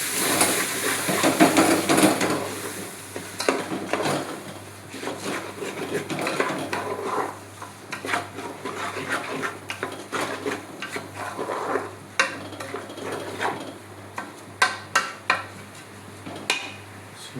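A spoon stirs dal and rice khichdi in a metal pot. Scraping and knocking sounds come in uneven bursts at close range, with a soft sizzle and a low hum underneath, and no one speaks.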